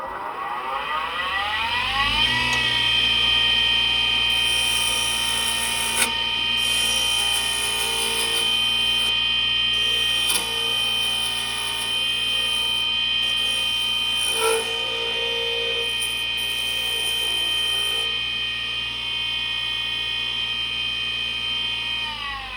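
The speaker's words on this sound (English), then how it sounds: "we'll sand her down" A high-pitched power tool spins up and whines steadily for about twenty seconds while sanding a handcrafted wooden coffee scoop, with faint scratches and bumps as the wood is worked.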